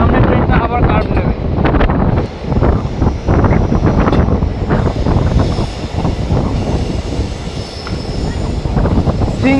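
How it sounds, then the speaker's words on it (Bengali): Strong wind rushes loudly and steadily past an open window on the Siliguri–Bamanhat InterCity Express, a single-diesel train running through forest, with rumbling wheel and track noise underneath and no pauses. "প্রচণ্ড হাওয়াও দিচ্ছিল"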